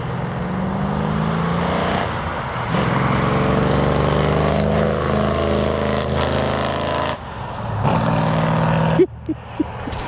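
A 1963 Ford Galaxie 500 V8 pulls hard under acceleration, a loud sustained engine roar climbing through the revs with a brief gear change, then easing off near the end with a few short pops.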